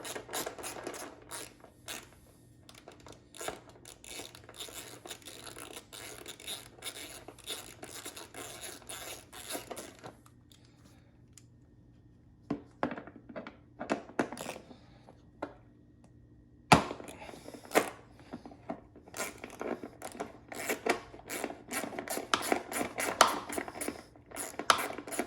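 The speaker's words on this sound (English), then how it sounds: "I will be switching to a ratchet instead of a power drill." Hand ratchet working bolts loose on a Suzuki DRZ400SM motorcycle during disassembly in a tight spot, heard as faint bursts of quick clicking with pauses and occasional metallic clinks, close by and without talk.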